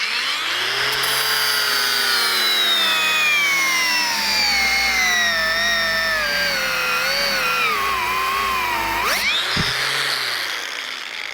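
A MELLIF AG-DW20 three-speed cordless angle grinder spins a disc at maximum speed, a loud steady high whine that slowly sags in pitch under load, then dies and briefly revs again near the end.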